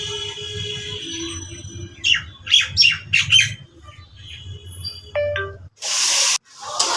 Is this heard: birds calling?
yes